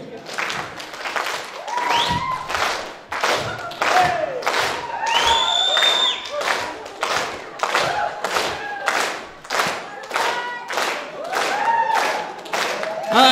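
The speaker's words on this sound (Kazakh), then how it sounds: "баршамыз енді ритм берейік, шапалақпен" Audience clapping together in a steady rhythm throughout, loud and close, with crowd noise and a voice under the regular claps.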